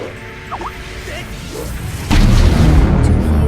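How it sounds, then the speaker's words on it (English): A turret being destroyed in League of Legends gives a sudden loud crash and booming burst partway through, then a sustained rumbling roar of rubble and effects, following quieter game sounds with faint voice-like tones. "Has destroyed a turret"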